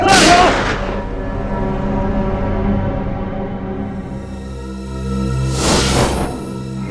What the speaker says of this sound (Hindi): गोली चलाओ उस पर, चलाओ गोली